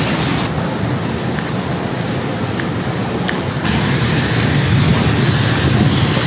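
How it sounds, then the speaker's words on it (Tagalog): Heavy typhoon rain pouring in Manila, a loud continuous roaring hiss that swells slightly toward the end, close and enveloping, no talk. "Lakas ng ulan."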